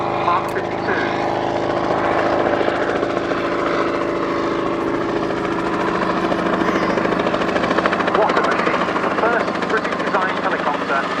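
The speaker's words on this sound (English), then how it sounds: "The beautiful and amazing sounding Bristol Sycamore Mark 52." A Bristol Sycamore Mark 52 helicopter flies at the 2018 Yeovilton airshow, its rotor and engine making a loud, steady drone with a rapid rhythmic thrum that holds throughout.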